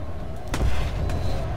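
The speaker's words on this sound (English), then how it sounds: "That'll be some anti-air." Anti-air fire in the online shooter Planetside 2 cracks out in a short, sharp burst followed by a fainter second shot, booming over low rumbling vehicle noise.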